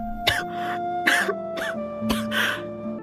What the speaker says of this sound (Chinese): 荣九月突然用丝帕捂住嘴巴，